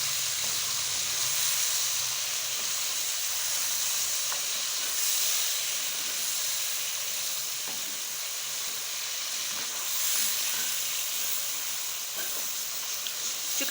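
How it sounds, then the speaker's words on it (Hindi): Chicken wings frying in hot oil give a steady, dense sizzle that runs without a break, with faint stirring clicks now and then and no voices. "अब जो है हम इसको ऑयल में फ्राई कर लेंगे"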